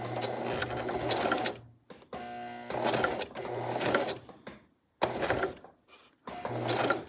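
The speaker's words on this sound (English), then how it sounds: "So I want to start my machine, back stitch a little, nice and clean." Sewing machine stitching a centered zipper, running in several steady bursts of a few seconds each with short pauses between them, close and clear with no talking.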